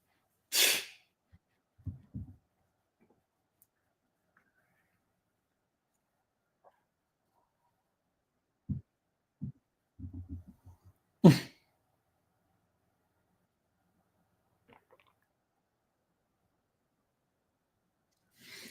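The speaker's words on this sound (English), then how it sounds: "It's a pretty powerful sneeze." A couple of sharp, explosive sneezes ring out in a quiet room, separated by long silences with faint breathy sounds and throat noises in between.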